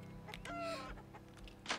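Loose chickens cluck and squawk inside a barn in the video game A Story Beside, several close, fairly soft calls overlapping over a steady low background hum.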